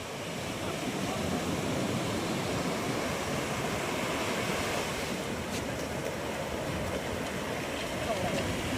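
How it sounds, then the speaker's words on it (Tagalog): Strong sea waves roll in after a storm as a continuous broadband roar of surf with some wind noise, loud and steady throughout. "Dahil ang lalakas pa ng alon."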